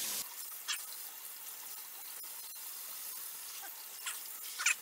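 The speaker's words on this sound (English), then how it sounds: "Cold water, of course, but really rinse it off real good." Cold tap water runs steadily over salt-cured steelhead trout fillets being rinsed, a soft continuous splashing hiss with a few brief louder spatters, fairly close with no talking.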